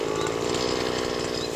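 A grass-cutting machine clearing tall pampas grass runs as a steady, buzzing small engine, loud and close for the whole moment.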